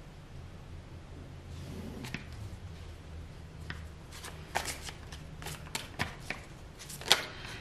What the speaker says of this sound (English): I just got two cards that flipped over as I was shuffling